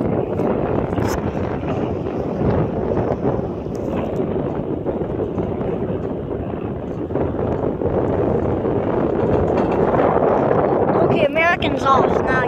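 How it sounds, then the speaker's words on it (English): Strong wind at an airport buffets the microphone in a continuous, loud roar, with muffled voices near the end. "Oh, the wind is like really bad."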